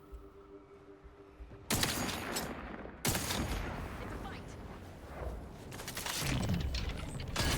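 Gunfire in The Outer Worlds 2 during a combat fight, loud booming shots and heavy bursts layered together, continuous and dense, with a voice talking over it.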